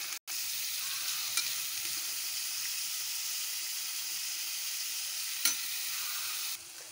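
Green chillies and onion pieces fry in a pan with a constant, soft hiss of oil and a few faint clinks of stirring throughout.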